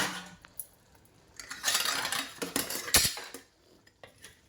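A metal pan set onto a home stove while cooking Andhra-style dum biryani: scattered metallic clinks and scrapes build into a clattering stretch, with one sharp clank near the middle, then quieter taps.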